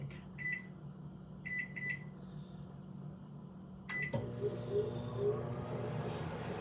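A microwave oven beeps in short triple bursts several times, then its hum starts and runs steadily to the end, moderately close in a quiet kitchen.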